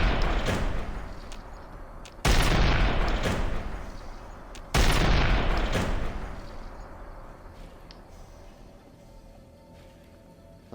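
Two heavy explosions boom in the Fallout: New Vegas video game, a couple of seconds apart, each a sharp blast trailing into a long rumble, the second fading away slowly.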